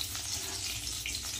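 Oil heating in a wok for a Bengali potato and pointed gourd curry, giving a steady, close sizzling hiss with faint bubbling that runs unbroken and alone.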